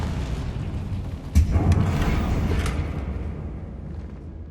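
Confringo fire spell exploding near a bridge in the Hogwarts Legacy video game: a sudden loud boom with a rumbling burst that swells and then slowly fades into a low roar.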